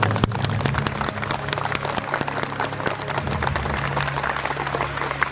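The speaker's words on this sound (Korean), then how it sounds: "여러분 큰 박수 부탁드리겠습니다." Audience applause breaks out at the Next Life awards ceremony for strong small business owners, a dense, steady wash of many hands clapping that holds for several seconds, with a low hum running underneath.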